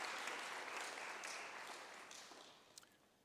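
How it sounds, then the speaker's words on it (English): An audience at a World Skills South Africa event claps in sustained applause that starts full and gradually thins and fades out. "Let's give her a round of applause."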